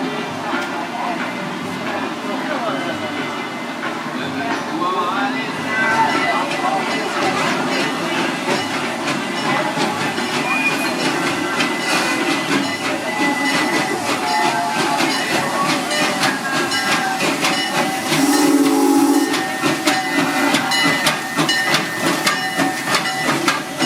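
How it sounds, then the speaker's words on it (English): A real steam engine train runs on the Serengeti plain ride at Busch Gardens, with a continuous rolling rumble and clatter and a short whistle-like tone near the end, while people talk over it. "this, as you can see, is an actual real steam engine"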